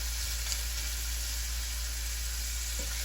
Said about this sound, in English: Then you leave the onion to cook for a minute or two.